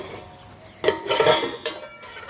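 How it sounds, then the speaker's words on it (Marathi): A lid comes off a cooking pot of chikki vegetable curry on a wood-fired stove: a sharp metallic clatter, then a longer scraping, clinking rattle and a final short clink, close by with no talking. "झाकण काढून बघूया."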